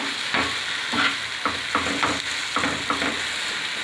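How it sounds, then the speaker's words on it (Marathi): Roasted eggplant being sautéed in a hot oil tempering, a continuous sizzle broken by rhythmic stirring strokes of a spatula in the pan, close and fairly loud, no voices. "हे वांगे पण छान आपल्याला याच्यामध्ये परतून घ्यायचे ते फोडणीमध्ये."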